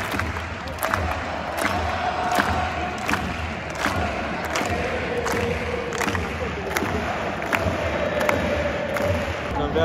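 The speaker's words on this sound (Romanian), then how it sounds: "Tot stadionul aplaudă, i-au strigat și campioni." Large stadium crowd at a Barcelona football match applauding and cheering steadily, with dense roaring noise, scattered claps and shouts throughout, loud and continuous.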